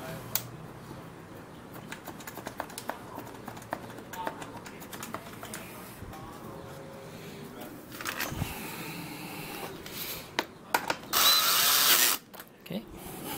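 A power tool drives bolts back in while a rear shock is fitted on a Kawasaki KLX140L dirt bike, with scattered clicks and light handling noise followed near the end by a loud, brief whirring burst.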